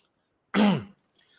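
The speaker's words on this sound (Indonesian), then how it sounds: "Tunggu ntar ya, batuk dulu." A single short, rough cough close to the microphone, followed by quiet.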